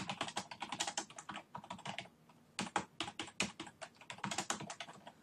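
Quick bursts of typing on a computer keyboard, close and fairly soft, with clustered keystrokes broken by a short pause midway.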